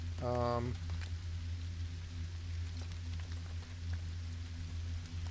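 Steady rain hiss falls in the Lego Fortnite video game, a constant broadband wash running the whole time, with a short tonal game chime near the start and a low hum beneath.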